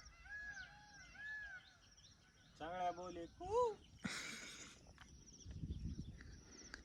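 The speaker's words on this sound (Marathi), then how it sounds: "तुम्ही इथला किलबिलाट आवाज चिमण्याचा मोराचा" Scattered calls of sparrows and peacocks ring out in a quiet outdoor setting in Beed district, India: a few arching, wailing cries and short chirps, with some rustling between them.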